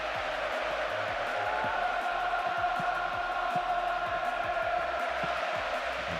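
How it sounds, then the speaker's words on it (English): Steady stadium crowd roar from the football video game PES 2009, an unbroken dense wash of massed voices and cheering that holds at an even level throughout. "The rhythm of this game appreciated by the crowd. The noise level has never been anything other than incessant."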